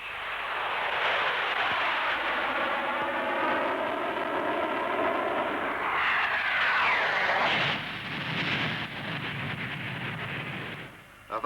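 A Royal Navy Blackburn Buccaneer jet flies past at a 1960s Farnborough airshow, its loud, continuous engine roar swelling and shifting in pitch midway, then easing off.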